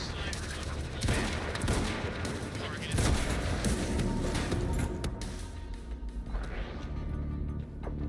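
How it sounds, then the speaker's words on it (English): Shotgun blasts in the action video game Quantum Break, heavy booming shots repeating over several seconds amid dense combat noise and crashes. "Now's the time for the shotgun."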